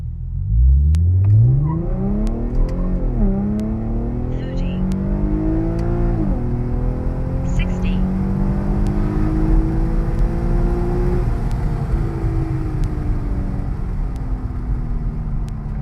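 A car engine revs and accelerates through rising gear changes during an eighth-mile test pull, a loud close rumble with road noise building across the run.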